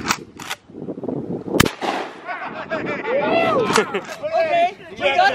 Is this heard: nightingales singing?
no